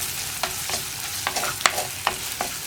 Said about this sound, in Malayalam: ഈ ഉള്ളിയും വറ്റൽമുളകും നന്നായിട്ട് കുക്കായി വരട്ടെ കേട്ടോ